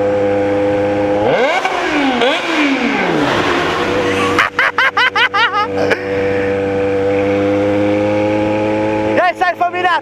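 Yamaha XJ6 motorcycle with a straight-pipe exhaust revs hard and close, rising and falling in sharp throttle blips over a steady idle, then a burst of rapid crackling revs near the end.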